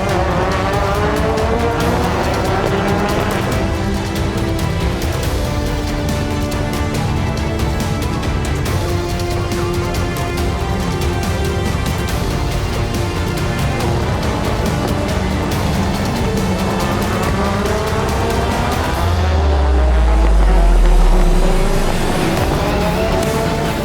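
Race cars roar around a track in a long race, engines revving and shifting with layered pitch sweeps, loud and close, ending in a deep rumbling surge as a car passes.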